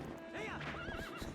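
Horse in the video game Twilight Princess, a close, loud wavering neigh alongside quick clip-clop hoofbeats, all packed into a brief burst.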